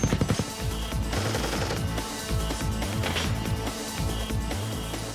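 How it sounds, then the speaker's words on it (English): Loud bursts of rapid gunfire crackle and rattle during a Green Beret raid on caves in Iraq, shots overlapping in quick succession. "We received some gunfire back"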